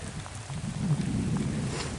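Steady rain falls outdoors on a farm worksite, a continuous dense hiss with a low rumbling undertone and no voices.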